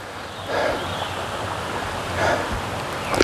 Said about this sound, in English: got this nice little river here